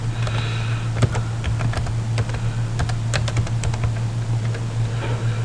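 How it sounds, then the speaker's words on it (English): Close, brisk keystrokes on a computer keyboard, irregular clicks in quick bursts over a steady low hum. "I can't think and type at the same time."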